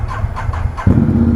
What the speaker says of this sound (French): Direct, on prend la moto, on roule, c'est parti.